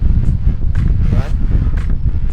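Wind gusts across a hotel balcony above the Miami River in Brickell, a steady low buffeting rumble that fills the clip, with faint talk underneath.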